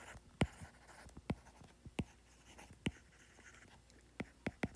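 Pen strokes scratch across paper in short separate taps and scribbles, fairly close and quiet, with no talk over them.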